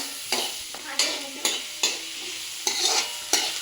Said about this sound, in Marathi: कांदा चांगला आपण परतून घ्यायचा आहे तांबूस होईपर्यंत